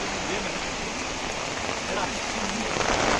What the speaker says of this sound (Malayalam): നല്ല മഴ എൻ്റെ മോനെ, നല്ല കാറ്റ്, സീന് മഴ.